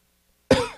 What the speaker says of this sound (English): you got me coughing over here.